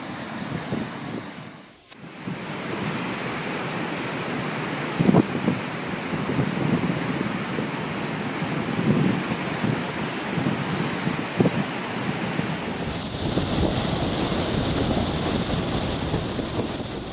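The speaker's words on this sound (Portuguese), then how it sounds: "O mar em fúria volta a assustar em 29 de maio de 2014." A furious, stormy Atlantic sea crashes around the rocky São Pedro e São Paulo archipelago. Heavy surf and gusting wind make a loud, continuous roar that barely lets up.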